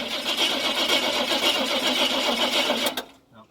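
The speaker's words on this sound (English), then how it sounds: "just crank it over" A Chevy C-10 pickup engine cranks over without firing, since it has no spark. The starter whirs in a loud, rapid, even churn for about three seconds and then cuts off abruptly into near quiet.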